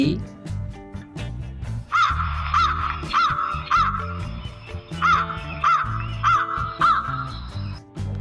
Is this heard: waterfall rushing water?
no